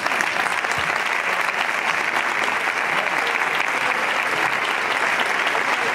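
Steady, dense applause from a large audience at a national young flamenco competition awards ceremony, loud and continuous throughout with no breaks or voices standing out.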